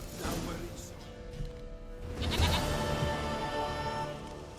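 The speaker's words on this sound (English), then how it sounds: "Goat of mine, dearest, sweetest goat." A goat in The Witcher 3: Wild Hunt gives a couple of bleats over game ambience, with a voice speaking over part of it.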